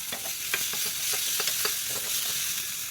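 Green chili paste sizzles steadily in hot oil with cumin and curry leaves, close and even, with soft stirring scrapes breaking through the frying hiss.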